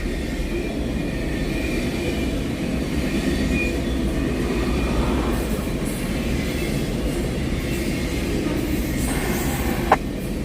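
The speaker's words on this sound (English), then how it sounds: "Yes, that's a train." A train passing nearby, a steady, loud rumble with clattering wheel noise that holds evenly throughout, with no talking.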